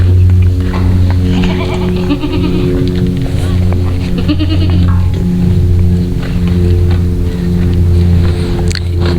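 Sirohi goats on a goat farm bleat repeatedly over a loud, steady mechanical hum, several overlapping calls near and far, with a voice talking in the background.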